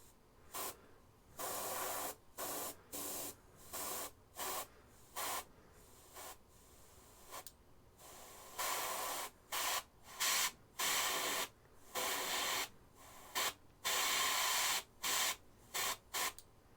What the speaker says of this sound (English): Still spraying paint.